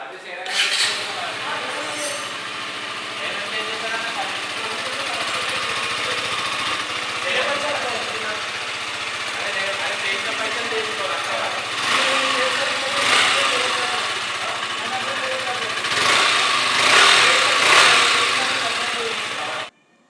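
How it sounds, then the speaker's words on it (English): A KTM Duke 125 motorcycle engine idles with a continuous mid-pitched drone for the whole stretch, swelling slightly a few times, with light clinks and faint voices in the background. "Let's hear the exhaust note."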